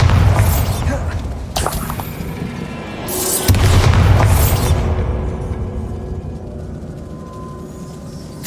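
A Bombarda blasting spell detonates in Hogwarts Legacy after a troll fight, heavy booms and a shattering burst around the middle, followed by rumbling debris that gradually settles and fades.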